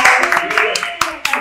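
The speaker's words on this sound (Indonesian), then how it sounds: "Tepuk tangan, saudara." Audience clapping on an Indonesian talk show, a loud, close burst of scattered claps with a few sharp individual hits, mixed with voices speaking over it.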